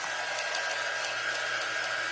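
A low-heat craft dryer blows steadily over wet ink on an ink mat, a constant, even airy whir with no breaks, moderately close.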